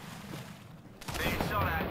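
Gunfire breaks out during an Apex Legends match, with a sudden burst of rapid shots rising over quieter background game noise, fairly loud and close.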